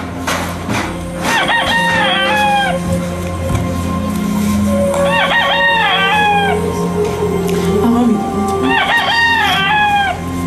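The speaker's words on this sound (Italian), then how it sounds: "E subito il gallo cantò." Three rooster crows ring out in succession, each a rising then sustained harmonic call, heard amid a staged Passion play scene with a steady background hum and faint crowd murmur.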